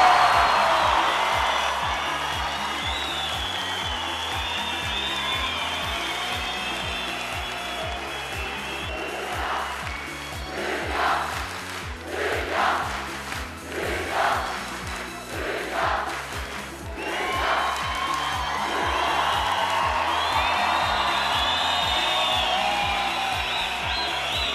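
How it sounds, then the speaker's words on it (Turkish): A studio audience at a Turkish televised talent show cheers and applauds loudly, a sustained roar that breaks into a run of distinct clapping bursts midway before swelling again. "Ve şimdi alkışlarınızla jürideki değerli arkadaşım Hülya Avşar'ı çağırıyorum"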